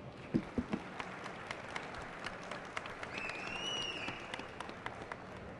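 Audience applause at a Campus Party technology event, a burst of claps at the start then a steady, moderate wash of clapping from a large crowd filling the room.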